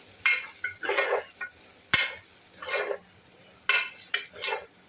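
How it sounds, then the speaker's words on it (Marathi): Pav bhaji masala and red chilli powder being sautéed in a pan, bursts of scraping spoon strokes over a soft sizzle, with one sharp knock against the pan, close by. "आता हे मस्त असं चांगलं परतून घेते।"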